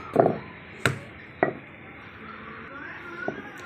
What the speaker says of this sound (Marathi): थोडंसं तेल लावलं आहे असं पाट्यावर मस्त मी कुटून घेते